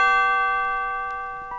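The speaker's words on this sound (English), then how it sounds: "when you hear the chime," A single bright chime marks a page turn on a 1979 read-along story record, ringing out clear and alone and then slowly fading with a steady, sustained tone.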